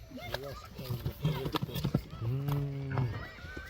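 A purebred Kyrgyz horse at a village sale gives a whinny with clear rising and falling tones, repeated a few times close by. Hoof clops and people talking sound around it.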